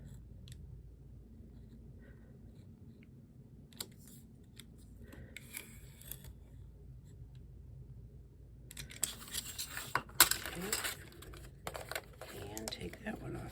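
Scissors cut a small slice out of paper for a coffee table book spread, snipping in quiet scattered clicks and rustles that grow busier toward the end.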